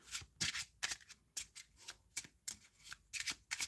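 Slippery plastic poker playing cards being shuffled up close, a quiet run of crisp riffling bursts and smacks repeating in an irregular rhythm, with no voice.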